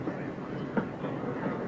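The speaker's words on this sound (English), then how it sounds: "I'll meet you on the train, Karen." A passenger train with a baggage car rumbles steadily, a continuous low roll with a faint clack partway through, while voices murmur faintly beneath.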